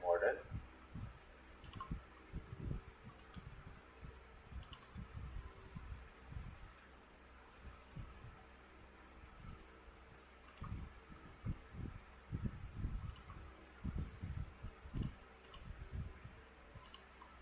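Sharp, sparse mouse clicks while selecting a model in CAD software, quick isolated ticks scattered across the passage under a person talking steadily at a low level.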